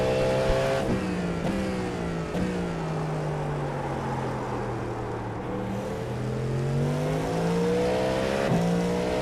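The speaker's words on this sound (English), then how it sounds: "The car sounds so good." A race car engine in a Daytona 24 Hours racing game whines and shifts pitch as it revs up and down through gears, steady and loud with no talking.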